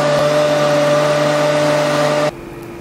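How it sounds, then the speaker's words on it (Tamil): A blender grinds saffron badam lassi ingredients with a loud, steady, close motor whine that cuts off abruptly near the end, leaving quiet room noise. "இப்போ இதை நல்லா எல்லாம் சேர்த்து ஃபைனாக அரைச்சி எடுத்துகிட்டு வந்துடலாம்."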